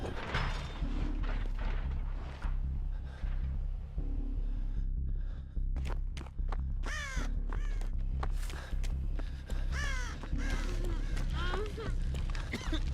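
Crows cawing in Dead by Daylight, several harsh caws scattered over an ambient game backdrop with music, some calls close and sharp, others fainter, mixed with occasional bursts of noise.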